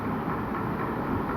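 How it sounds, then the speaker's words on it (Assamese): A small park toy train rolls in with a steady, continuous low rumble, fairly close and unbroken. "এয়া ট্ৰেইনখন আহিছে আৰু উঠিম আৰু"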